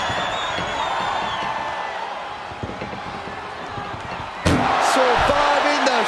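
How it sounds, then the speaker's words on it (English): A heavy metallic slam as an ambulance door is shut in the WWE 2K24 wrestling game, a sudden loud impact late in the clip after commentary-like arena noise, followed by a brief echoing rattle. "Shutting door and escaping the ambulance."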